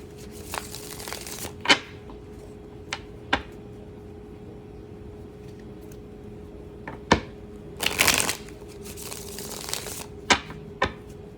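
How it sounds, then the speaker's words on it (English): Tarot cards being shuffled, close and fairly quiet, with irregular crisp riffling and snapping bursts separated by pauses over a low steady hum. "shuffle it a couple times."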